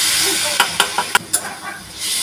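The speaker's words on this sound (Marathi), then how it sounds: "आता ही प्युरी टाकून देणार आपण टोमॅटोचे केलेली" Tomato puree lands in hot spiced oil for a ridge gourd curry and gives off a loud, hissing sizzle close up. A string of short knocks and spatters follows as it settles, and then the steady hiss returns.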